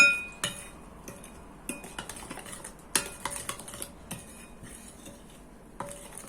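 A spoon stirs a yeast dough mixture in a bowl for Karabakh kətə, giving a dozen or so irregular clinks and scrapes against the bowl, close and clear with no talking.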